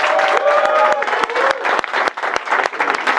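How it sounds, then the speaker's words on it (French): An audience at a rap battle between YouTubers applauds the MC with loud, close, continuous clapping and sharp individual claps standing out, joined by crowd voices throughout the short burst. "Allez, on applaudit la MC là"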